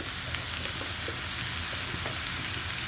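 Green chilies join chopped panna lau (bottle gourd) frying in oil, giving a steady, close, continuous sizzle with faint crackles throughout and no voices.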